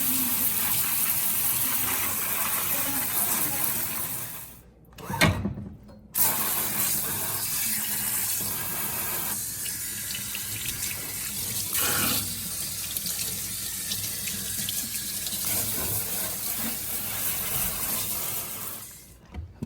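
A water spray rinses a filthy GE Cafe dishwasher spray arm and cutlery washer, a steady hissing gush over a sink that cuts out briefly twice and resumes, close and continuous without talk.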